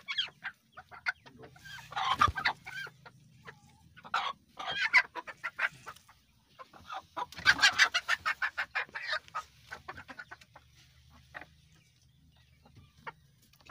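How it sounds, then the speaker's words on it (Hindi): Chickens cluck and squawk in agitated bursts while being caught and stuffed into a box or bag. The hens flap and scuffle nearby, loud at moments and quieter between flurries. "ये देखिए ये फाइट हो रही है इसकी मुर्गियों के साथ।"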